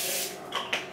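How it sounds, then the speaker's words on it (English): Canola oil cooking spray is released over a foil-covered plate in a kitchen, heard as a soft hiss with two brief spurts close by, no talking. "I'm gonna put a little canola spray."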